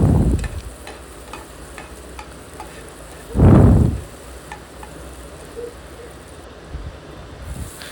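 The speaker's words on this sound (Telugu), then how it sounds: "స్ప్రింగ్ ఆనియన్స్ అన్నీ వేసుకొని ఇలా నీట్గా కలుపుకోవాలండి." Spring onions being stirred into chicken momo filling in a pan: soft sizzling underneath, with a couple of loud scraping stirs, one at the start and a stronger one about midway, then quieter scrapes.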